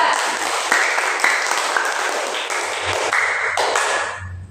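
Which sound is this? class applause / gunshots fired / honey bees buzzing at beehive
class applause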